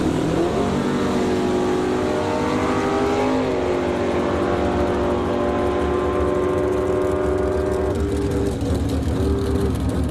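Two big-block Chevrolet drag cars, a 1967 Chevy II with a 421 and a 1967 Camaro, idle and rev loudly at the strip. The engine tones rise and fall in steady surges, with no talk over them.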